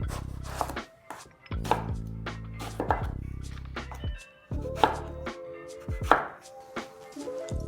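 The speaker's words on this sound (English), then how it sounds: "I'm going to chop the eggplant so I can deep fry them." Eggplant being chopped with a knife on a board in a home kitchen, a steady series of sharp, close knife strikes in irregular bursts with short pauses, no talking.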